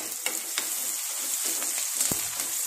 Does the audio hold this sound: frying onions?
yes